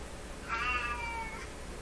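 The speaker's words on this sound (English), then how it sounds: "I have to go let this cat go outside." An indoor cat lets out one drawn-out meow, wanting to be let outside, close and fairly clear over a steady low hum, lasting under a second.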